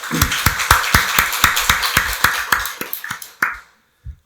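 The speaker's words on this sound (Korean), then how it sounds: "박수로 하나님께 영광 돌리겠습니다." A church congregation at a Korean Sunday worship service claps in unison to glorify God, sharp rhythmic claps in a quick even beat for about three and a half seconds, then stopping abruptly, with a couple of stray claps after.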